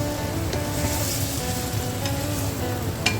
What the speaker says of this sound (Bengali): মাংসটাকে সুন্দরভাবে উল্টে পাল্টে ভেজে নিতে হবে।